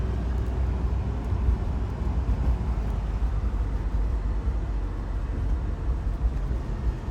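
Cabin of a BMW 318 fitted with a V12 swap, interior and insulation stripped out, filled with a continuous loud low rumble of engine and road noise while driving.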